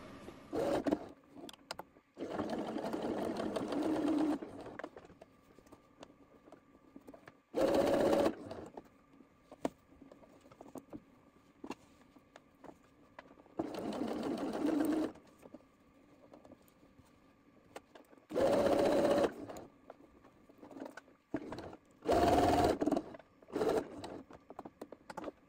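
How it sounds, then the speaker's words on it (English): A sewing machine runs a quarter-inch seam in several separate bursts of a few seconds each, a steady mechanical whirr broken by short pauses and by handling noise between runs. "I will sew along at a quarter of an inch seam allowance, just a line of stitching across this."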